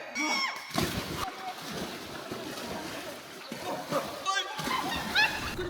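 A cannonball jump into water by a swimmer beside a canoe outing, making loud splashes and sloshing, with several bursts across the clip among outdoor chatter and voices.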